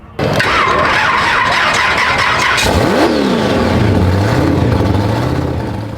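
Blown big-block Chevy engine in a 1,300-plus horsepower C10 truck, loud and close, revving hard with rising and falling pitch sweeps and a squealing tone, then settling to a lower rumble.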